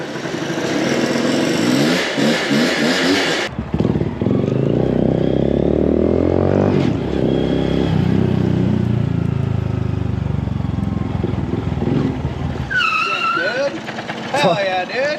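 A motorcycle engine, just fired up after a long struggle to get it going, runs loudly and revs repeatedly with rising and falling pitch, a sharp cut around the middle, and people talking over it.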